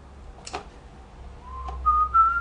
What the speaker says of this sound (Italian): Non fischiare Non fischiare Non fischiare